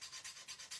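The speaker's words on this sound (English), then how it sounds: "I'm gonna use my big fat scraper here." A large, wide scraper drags over a round wooden gingerbread cutting board in quick, even strokes, giving a faint, rhythmic rasping of about four passes in under a second, with no voices.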